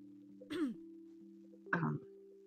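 A single short cough, then a throat clearing about a second later, both close and fairly quiet over a steady low hum.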